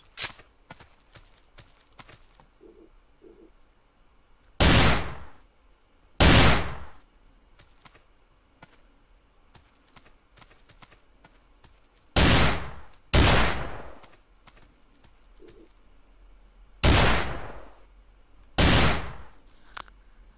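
Single loud gunshots ring out in the video game Survivalist as characters take turns shooting targets near a fence. Six sharp, echoing shots come spaced in pairs several seconds apart, with faint footsteps and quiet ambience between them.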